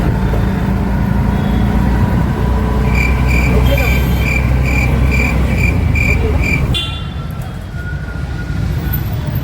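Dense road traffic waiting at a signal in Hadapsar, Pune: a steady, loud rumble of engines with a thin high whine pulsing over it, easing slightly toward the end.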